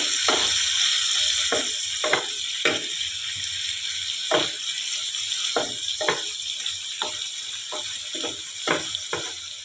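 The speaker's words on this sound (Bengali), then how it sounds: "এটা একটু হালকা করে ভেজে নিতে হবে।" Food frying lightly in a pan for a Bengali prawn curry: a continuous bright sizzle with repeated sharp clicks and scrapes of stirring at irregular intervals, close by and without speech.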